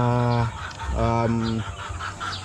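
Native chickens cluck and call steadily at feeding time, the harmonic calls close and overlapping in short bursts over a noisy farmyard background.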